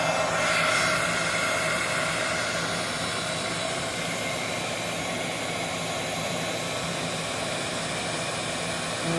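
A heat gun blows a steady, loud stream of hot air close by to warm paint, a continuous broadband roar with no breaks.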